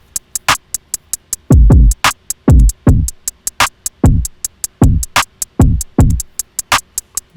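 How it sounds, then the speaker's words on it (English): A programmed hip-hop drum beat with pitch-modulated kicks and crisp, rapid hi-hats, punchy low hits falling in tone on a steady groove, loud and upfront with no voices. "I modulated the frequency here to give the drums a bit of a different"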